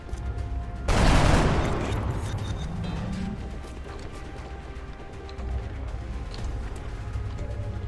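Gunfire in the turn-based strategy game XCOM: one loud, close burst of shots erupts and rings out, followed by mechanical clatter and a low ambient rumble.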